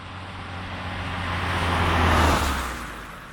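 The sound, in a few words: Renault 5 GT Turbo car engine driving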